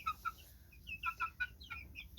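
Young chickens, some around five months old, give short high clucks and squeaky attempts at crowing in quick uneven bursts, nearby and fairly faint over a low background hum.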